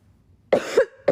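A woman coughs and clears her throat in a short close burst: two harsh coughs, then a third cough after a brief pause, with silence before them.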